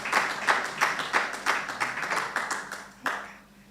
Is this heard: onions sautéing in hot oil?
no